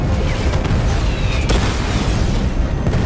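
A loud, deep rumbling explosion in the video game Batman: Arkham Knight, with booming low-end roar and a few sharp cracks and bursts layered over it.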